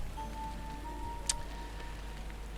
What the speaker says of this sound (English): Between the pitter-patter of the rain and strong winds blowing